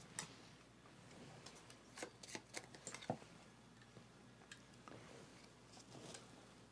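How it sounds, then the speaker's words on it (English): Riffle shuffling a deck of game cards at a tabletop board game of Twilight Inscription, heard as several quick, faint bursts of flicking and rustling card noise spread over a few seconds, with no talking. "Okay, so shuffling these."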